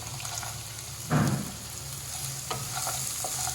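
Cashews frying in a pan with onions and spices, a steady low sizzle with one sharp burst of crackling as the nuts hit the hot oil, then a few faint stirring clinks.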